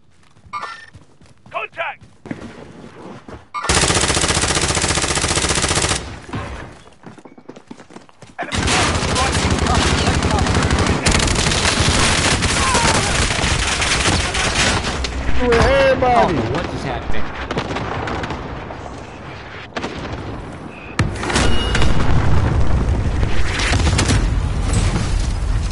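Bursts of automatic gunfire and booming blasts from Warzone come in loud stretches separated by brief lulls, with players talking intermittently over the fighting.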